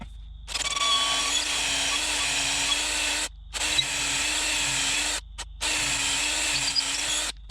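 A power drill drives a lag screw through a floor joist into a beam during a cabin corner foundation repair, whirring loudly and steadily in three long bursts separated by short pauses.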